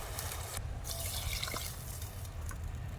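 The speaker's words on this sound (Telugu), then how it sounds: "200 ml వాటర్ వేసేసుకున్నాం కదా." Water poured into a cooking pot of village-style tomato chicken rasam, a soft steady liquid splash and trickle heard close and fairly quiet.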